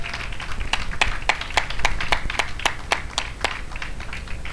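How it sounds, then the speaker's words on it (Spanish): Church congregation clapping in a steady, rhythmic beat, about two claps per second, with distinct sharp hits over a low background murmur, fairly faint and at a middle distance. "Un aplauso al Señor y tome asiento"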